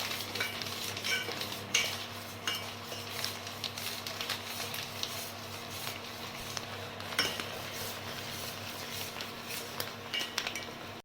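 A spoon scrapes and clatters steadily in a pot as maize flour is stirred into boiling water for makki roti dough, with a low hum beneath and no talking.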